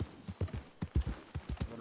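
Horse hooves clip-clop at a steady trot around a camp in the video game Red Dead Redemption 2, a quick rhythmic series of close, dull thuds with no voices.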